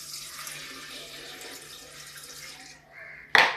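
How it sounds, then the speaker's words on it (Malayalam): Boiled and cooled water is poured into a homemade pickle, a soft continuous trickle of liquid that tapers off, followed by a single sharp splash or clink near the end. "തിളപ്പിച്ചാറ്റി വെച്ചിരുന്ന വെള്ളം."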